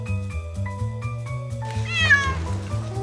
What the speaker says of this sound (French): On a le chat.